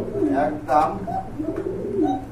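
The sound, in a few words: pigeons cooing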